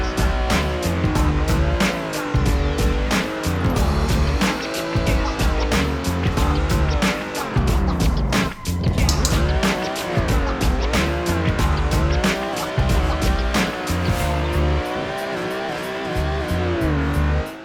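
Low-horsepower car drifting through a full pro track in a racing video game, engine droning and revving continuously with sustained tire squeal throughout, no pauses.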